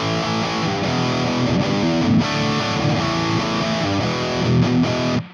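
A distorted electric guitar plays through the Rockergain 100 amp plugin into an Orange-style 4x12 cabinet impulse, thick saturated chords ringing loud and continuous before cutting off abruptly.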